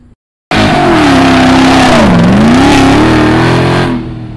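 Supercharged Jeep Hellcat downshifting and accelerating hard at a cars and coffee meet, a loud, close, sustained engine roar whose pitch dips and then climbs, with no talk over it.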